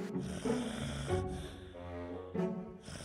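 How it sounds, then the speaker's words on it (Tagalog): A snoring sound effect in a Filipino children's story plays as a few long, rattling snores with snorting breaths, close and loud, rising and falling in a slow rhythm with no talking. "Narinig mo ang hilik?"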